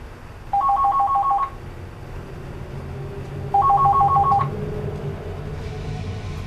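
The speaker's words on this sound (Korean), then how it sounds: "공구를 진짜 딱 짚는 순간 전화벨 소리 울리는 거예요" A phone rings in a horror tale set near midnight at an amusement park, two short electronic ringing bursts separated by a pause, fairly loud over a low steady background hum.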